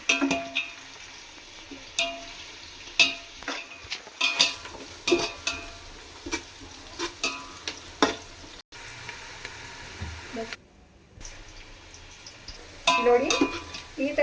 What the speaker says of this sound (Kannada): ಈರುಳ್ಳಿ ಮಾತ್ರ ತುಂಬ ಫ್ರೈ ಆಗಬೇಕು ಸರಿನಾ